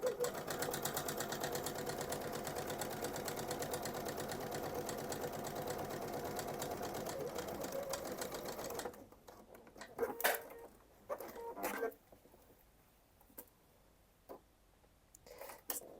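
A sewing machine stitches a seam with backstitching, giving a fast, steady mechanical whir for about nine seconds, then several short bursts of stitching separated by quiet pauses, close and clear.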